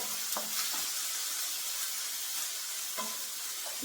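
Large chopper-chopped onions sauté in a pan with a constant hissing sizzle, broken by a few light clinks and scrapes of stirring, no talking.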